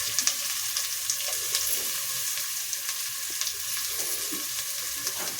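Ground coconut and poppy seed paste goes into a hot oil tempering for basale soppu saaru, giving a steady close sizzle and frying crackle with soft stirring scrapes throughout, no talking.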